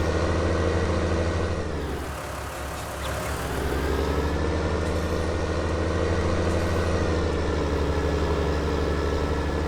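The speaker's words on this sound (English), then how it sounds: "Let's go grab the Ford tractor" Ford tractor engine in the Farm Simulator video game running steadily, a loud continuous low drone with a brief dip and shift around two seconds before settling back to an even rumble.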